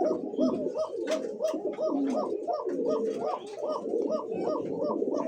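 A red checker racer pigeon from a breeding pair coos over and over in a steady, rhythmic pattern, close and clear throughout.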